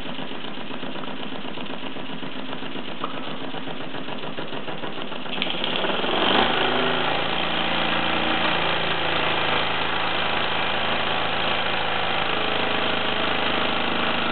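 A Mamod SE1/2 toy steam engine runs steadily nearby with a fast, even chuffing and a mechanical rattle. Partway through, a brief hiss rises and the running tone grows fuller and lower.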